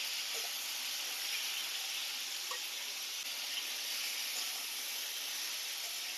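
Bitter gourd sautés in a pan in a steady, even hiss of sizzling oil, close and constant, with a faint occasional tap of a spoon.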